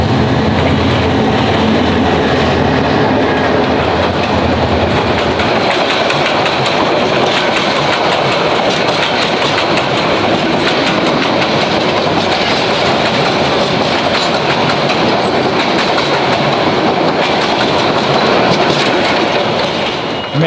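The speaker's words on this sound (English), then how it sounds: "So the train's actually coming" A train rolls past on the tracks very near and loud, a dense unbroken roar of wheels and clattering rails filling the whole stretch with no talking.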